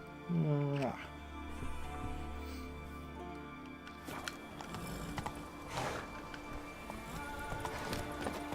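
Roach, a horse in The Witcher 3, gallops with steady rhythmic hoofbeats, after a short whinny at the start, with someone talking over the game audio.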